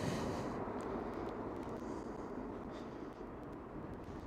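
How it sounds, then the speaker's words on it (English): An Airbus A330 landing at Schiphol: a broad, distant jet roar that slowly fades over several seconds against a steady outdoor rumble, with no talking. "Not the smoothest of landings of an Airbus A330 I've ever seen, but still very smooth."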